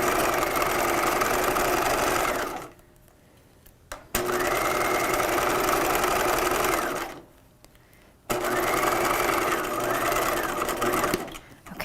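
A sewing machine stitches the center front seam of a 1950s shelf-bust dress, running loudly in three long bursts separated by short quiet pauses where the fabric is pivoted with the needle down.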